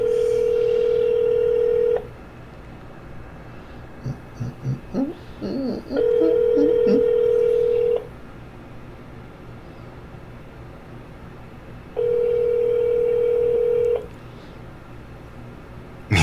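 A telephone dials out to place a call: a steady tone in long two-second blocks alternates with silent gaps, and a short burst of quick dialing tones sounds midway, with no talking.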